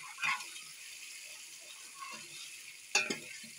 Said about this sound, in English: I like to fry it first and make sure that the salt taste is cleared before I add my fresh tomatoes